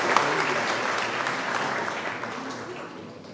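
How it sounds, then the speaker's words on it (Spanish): Congregation applauding during a Sunday Mass, a steady dense patter of many hands filling the church, holding fairly even before tapering slightly toward the end. "vamos a darle un fuerte aplauso para ellos"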